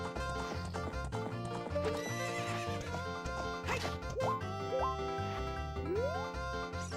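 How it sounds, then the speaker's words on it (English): Horse from The Legend of Zelda: Ocarina of Time galloping with steady clip-clopping hooves and several loud whinnies, layered over continuous game music. "Mr. Horsey, you're running right into me."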